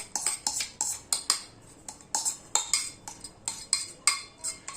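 A metal spoon scrapes and clinks around the inside of a pot, spreading set yogurt over its walls, in a quick irregular series of close, bright strokes with no talking.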